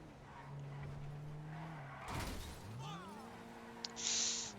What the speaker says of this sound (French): fait juste un peu de bruit. Mais c'est une belle voiture.